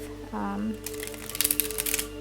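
A tarot card deck is shuffled in a quick burst of crisp, close card riffling and flutter, after a voice briefly speaks.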